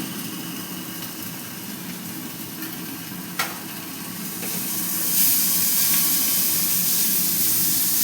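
Water lily stems and shrimp fry in a pan with a steady, soft sizzling hiss that grows fuller and louder partway through, marked by one brief click and no speech.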